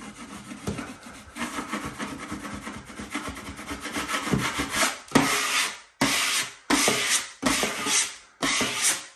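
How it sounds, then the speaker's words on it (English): A clean drywall blade is drawn gently along skimcoat compound lines, giving steady rasping scrapes that end in several short, loud separate passes with brief pauses between them. "Now, with a clean blade, you just go up to them gently."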